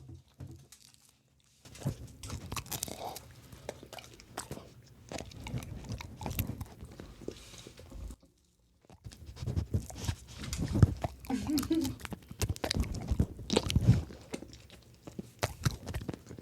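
A dog chews and bites into pizza close up, with wet, crunchy mastication and irregular bites that continue steadily, pausing briefly twice.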